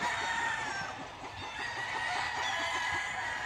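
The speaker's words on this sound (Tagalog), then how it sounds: "Mubanha ang isa, banha tanan." Several roosters crow on a farm, their calls overlapping into one steady, loud chorus that holds for the whole stretch with no pauses.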